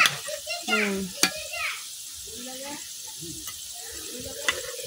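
Palm fritters (taler bora) fry in oil in a village kitchen with a soft, steady sizzle and a few sharp crackles, while people talk nearby and children's voices come through.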